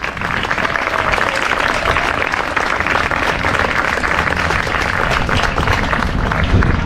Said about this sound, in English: They don't want to stop clapping.